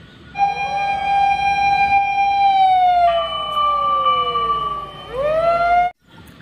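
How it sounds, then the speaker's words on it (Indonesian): A toy fire truck plays its electronic siren, a close, loud wailing tone that holds steady, drops in pitch, then sweeps up again before cutting off abruptly near the end. "Wow, ini ada mobil pemadam kebakaran atau damkar."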